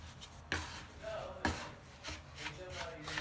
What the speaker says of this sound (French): Et là, on mélange bien, bien, bien.